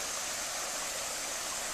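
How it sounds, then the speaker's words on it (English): North Fork Moormans River in Shenandoah National Park rushing past a campsite, a steady broadband wash of flowing water, close and even throughout with no voices. "Right next to the river here."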